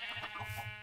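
A sheep in the game Minecraft gives one short, wavering bleat, close and clear with nothing else behind it.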